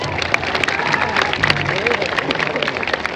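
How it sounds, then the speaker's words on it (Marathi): A crowd claps loudly and steadily at a ceremony unveiling a tall statue of Chhatrapati Sambhaji Maharaj in Maharashtra, with dense clapping mixed with crowd noise throughout. "सगळ्यांनी जोरदार टाळ्या वाजवत"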